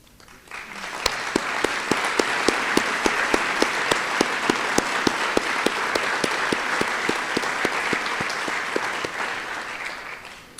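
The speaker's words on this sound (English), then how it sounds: "Please also stand and join with me in a round of applause." A standing audience at a county government's State of the County Address gives a round of applause. The clapping is steady and sustained, with a few sharp individual claps audible throughout, then tapers off at the end.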